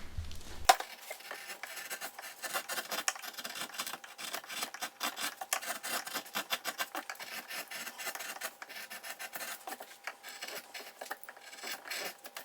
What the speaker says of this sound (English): I'm just working my way around here, carving the taper and establishing the depth of the